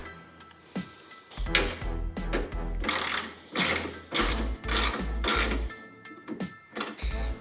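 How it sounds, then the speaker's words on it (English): Metal brackets are refitted on a 2002 Subaru WRX, giving a run of sharp mechanical clicks and rattling ratchet-like bursts in uneven quick clusters, close and fairly loud, with no talk. "now I'm gonna put these brackets back on"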